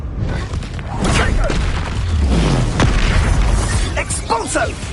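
A fire spell blast in Hogwarts Legacy lands among dense game effects, booming and roaring across the five seconds as spoken character dialogue and whooshing magic overlap it.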